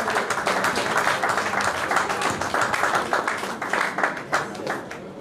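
An audience at an evening event applauds in a sustained wash of clapping that thins toward the end, with a few isolated claps standing out.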